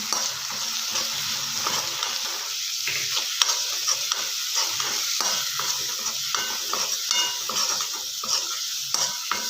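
Chana dal and crushed green chillies stirred and frying in oil for spinach palya, a steady close sizzle with repeated scraping stir strokes and occasional light pan clinks, no voices.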